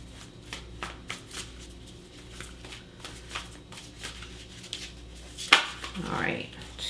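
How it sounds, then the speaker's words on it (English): A deck of tarot cards being shuffled in quick riffling bursts, soft and close, ending in a louder flurry of flicking cards. "Let's just give this another little shuffle."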